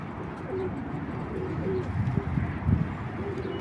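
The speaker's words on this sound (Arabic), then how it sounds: "كان حمام قاعد." Pigeons coo softly from a loft on a windy day, low repeated calls under steady wind noise with a slightly stronger burst near the end.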